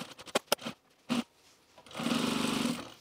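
Sewing machine stitching a seam on a pair of pants at regular stitch length, a steady near whir of about a second following some brief handling taps and clicks.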